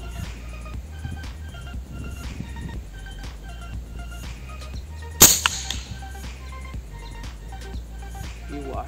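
A single sharp crack from a URKO M22 air rifle fired at a target 80 metres away stands out once against a quiet outdoor background with faint chirps.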